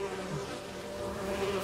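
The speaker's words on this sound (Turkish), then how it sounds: "Arılar bayağı sıkıntılı ha." Bees buzz in The Witcher 3 Wild Hunt, a steady close droning hum that fills the short stretch without interruption.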